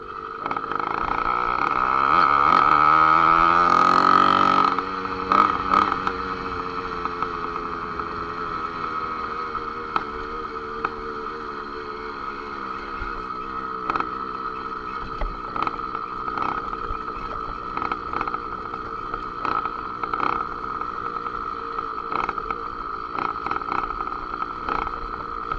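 A motorized bicycle's small engine running in a city center, a steady buzzing drone that revs loudly and climbs in pitch during the first few seconds, then settles to a quieter, even idle-like hum.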